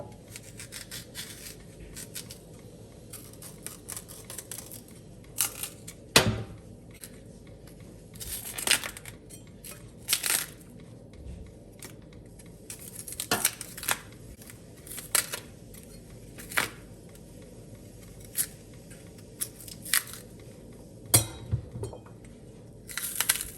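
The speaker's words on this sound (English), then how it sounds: "I will then go ahead and wash my plantains and peel them" Scraping and scrubbing plantain skins with a knife in a kitchen, with sparse sharp clicks and scrapes of blade on peel at irregular intervals over a quiet background, no talk.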